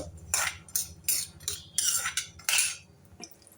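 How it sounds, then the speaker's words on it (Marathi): Almonds roasting in ghee in a pan, stirred with a metal spatula: a series of bright scraping strokes against the pan, roughly one every half second, close and fairly loud over a low background hum. "बदाम चांगले तुपामध्ये मी भाजून घेत आहे रंग बदलेपर्यंत"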